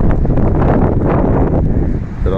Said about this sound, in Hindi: हवा इतनी तेज़ है कि मैं आपको बता नहीं सकता, हवा बहुत तेज़ है